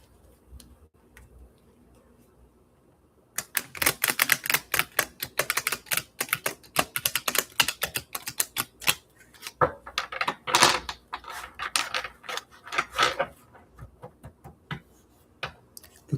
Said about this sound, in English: the cards are taking a lot of shuffling to get into the proper order.